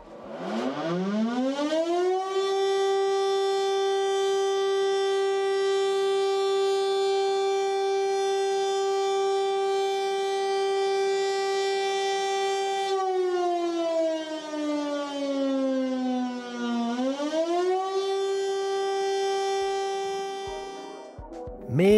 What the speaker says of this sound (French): on utilise comme beaucoup d'autres pays un système de sirène que vous avez forcément déjà entendu au moins une fois